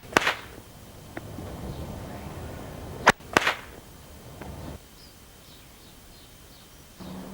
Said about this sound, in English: which will give me 2 cracks